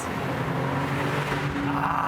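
Steady roar of an Aston Martin DB12's V8 engine under throttle, a dense, continuous exhaust drone heard from close by with a slight rise toward the end.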